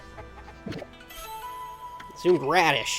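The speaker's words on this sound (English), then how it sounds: "Chickens!" Cartoonish chicken clucks from the video game Okami rise as a short, loud squawking burst near the end, following a brief chime-like tone, with a man's speech heard briefly before.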